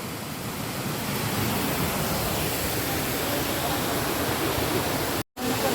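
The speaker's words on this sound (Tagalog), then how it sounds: "Ang ganda ng Hagimit Falls, guys." Hagimit Falls in Mindanao roars with a dense, steady rush of falling water, loud and close, with a brief dropout near the end.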